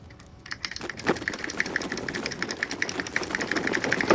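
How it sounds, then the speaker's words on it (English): A new computer keyboard clicking, a fast, close, steady run of crisp key taps that starts after a brief quiet moment and continues without pause. "if my keyboard's clicking, I got a new keyboard"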